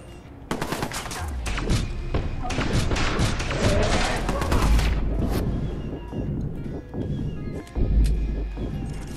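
Shotgun blasts and other gunfire in the video game Watch Dogs: Bad Blood, a dense run of loud, overlapping booming shots and impacts. The firing continues almost without a break, with a few heavier thuds mixed in.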